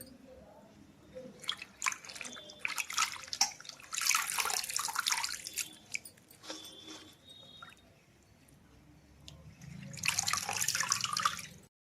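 Gongura leaves are washed in a bowl under running water, heard as several bursts of splashing and pouring separated by quieter drips and rustles.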